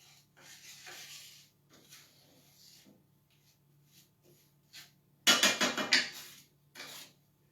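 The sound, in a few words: stirring in a pan on the stove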